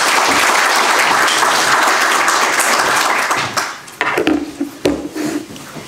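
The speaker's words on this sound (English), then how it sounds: "Please give her a round of applause." Loud audience applause fills a business accelerator demo day venue as a presenter is introduced, dense clapping for about three seconds before thinning into scattered claps and quieter gaps near the end.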